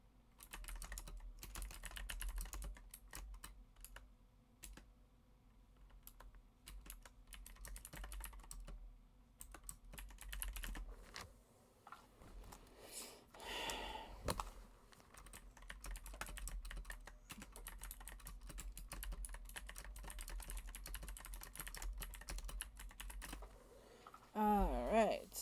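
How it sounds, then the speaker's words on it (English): Fingers type steadily on a computer keyboard, a quiet, continuous run of light clicks over a low hum, with no one speaking. "I'm typing this to my kid right now."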